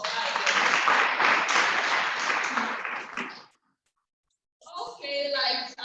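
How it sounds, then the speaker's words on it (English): Audience applause at an International Day of the Girl Child event fills the room for about three seconds and then fades to silence, followed by a short stretch of further sound. "A round of applause for her."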